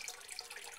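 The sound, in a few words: water running in flooded basement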